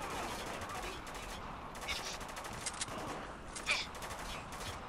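Gunfire in the video game Spec Ops The Line, a rattling fusillade of shots, fairly faint and distant under a steady noisy game bed, with a sharper burst near the end.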